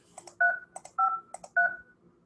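Telephone keypad dialing tones as a phone number is entered to call a house seller: a series of short, clear touch-tone beeps in quick irregular groups, close and alone with no talking.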